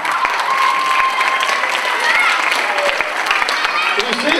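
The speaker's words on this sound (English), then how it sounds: "Give our astronauts a big round of applause" Audience gives astronauts a big round of applause, loud, close and sustained clapping with a bit of cheering and crowd voices mixed through it.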